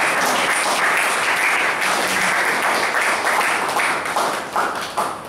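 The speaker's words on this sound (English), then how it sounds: "Give a round of applause to" Sustained audience applause at a speech evaluation session, a dense, steady wash of many hands clapping that fills the whole stretch and thins slightly toward the end, with no talk over it.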